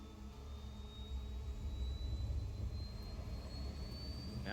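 An F-104 jet in the video game Ace Combat 7 roars steadily, a loud, continuous engine rumble with a rising high whine building as the plane accelerates.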